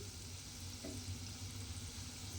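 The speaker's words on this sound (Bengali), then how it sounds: "এইভাবে বড়াগুলো কিন্তু ভেজে নিতে হবে।" Ras bora fritters frying in hot oil, a steady soft sizzle and bubbling that runs evenly throughout with no voices.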